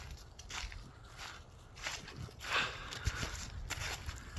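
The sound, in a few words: footsteps walking in the woods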